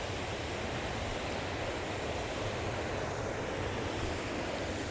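Close, loud roar of the river at the Rocky Gorge pullout on the Kancamagus Highway, water rushing past rocks in a steady broadband wash that never lets up.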